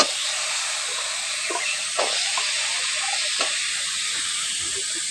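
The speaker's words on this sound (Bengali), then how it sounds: "এখন আলুগুলো ওর মশলার মধ্যে দিয়ে একটু ভেজে নেব" Potatoes, peeled and cut into chunks, frying in oil with a spice mixture; a steady, broad sizzling hiss runs throughout, with a few soft clicks of a spoon against the pan and no voices.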